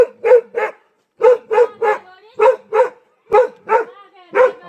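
A frightened dog at a hill-country home barks at night after a tiger came to the house, giving loud, close barks in pairs and threes with short pauses between the bursts.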